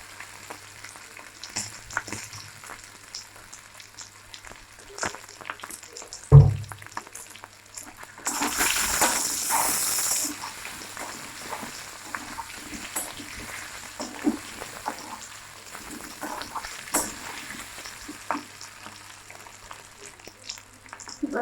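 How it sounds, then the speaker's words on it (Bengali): Small potatoes, rubbed with salt, being lightly fried in a pan, with a soft, steady sizzle, a sharp clatter of stirring and a brief burst of louder hissing as the pieces are moved. "এবার হালকা ভেজে নিয়েছি"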